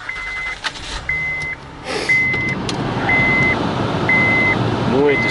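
A Honda Pilot car reversing, its backup alarm giving about six steady beeps roughly once a second over a low engine and ambient rumble, with faint voices in the background.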